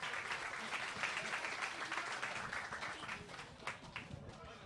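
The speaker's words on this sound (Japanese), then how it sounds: "今一度広瀬さんに拍手をお願いいたします" Audience applause for a presenter at an OWASP Night security meetup: dense, sustained clapping from a crowd that holds steady for several seconds, then thins slightly toward the end.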